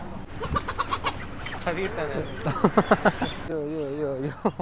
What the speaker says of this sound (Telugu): చూడు కోడి పడుతున్నారు మనం చెప్పినామని